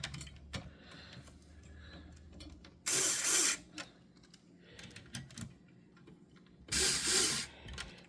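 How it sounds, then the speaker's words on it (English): Corner screws on an original Hyper 212 CPU cooler are started by hand during a PC build, giving light clicks and scrapes, then two loud ratcheting bursts of a few seconds each, close up with no talking. "now I can start screwing in these four corners"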